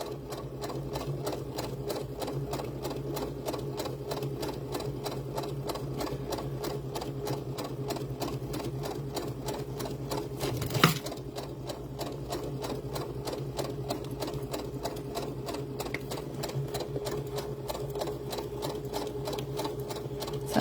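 A sewing machine stitches jute doll hair with an even, fast, steady needle rhythm that continues close and unbroken, plus one brief knock partway through.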